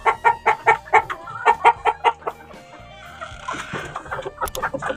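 A red rooster, father of a batch of chicks, clucks close by in a run of sharp, evenly spaced calls, then quieter fowl noises follow in a farmyard setting.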